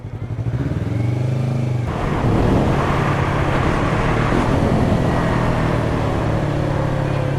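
A motorcycle engine screams at high revs while riding at highway speed, a loud steady drone that swells after a brief buildup and is joined by rushing wind, with no talking.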